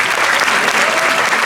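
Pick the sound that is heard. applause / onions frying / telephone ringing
applause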